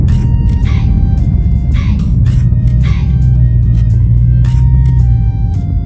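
A 2019 Dodge Charger Scat Pack with a failing engine idles loud and near, a deep, uneven rumble broken by irregular jerks and shudders.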